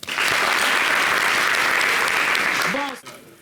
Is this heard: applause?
yes